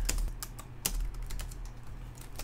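Typing on a computer keyboard while entering C++ code, with quick irregular clicks close by in short bursts and uneven spacing over a faint low hum, and no voice.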